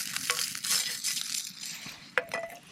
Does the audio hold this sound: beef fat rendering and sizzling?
yes